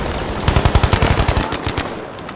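Rapid bursts of automatic gunfire from Battlefield V, loud and close, firing in a steady rattling stream for about a second and a half before trailing off into echoing tail.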